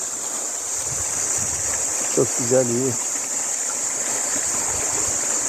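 Waterfall and forest stream rushing in a loud, steady, unbroken roar, with a voice briefly speaking over it midway.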